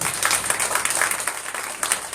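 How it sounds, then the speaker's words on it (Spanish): A church congregation applauds during a worship service, a brief burst of dense, continuous clapping from many hands in a reverberant room, loud throughout. "dale un aplauso al Señor"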